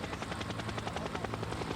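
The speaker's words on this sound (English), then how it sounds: "You can see by the helicopter over the top of our main group." A helicopter hovers low over the main bunch of riders in a 1998 Giro d'Italia road stage, its steady rotor chop loud and continuous with no voices over it.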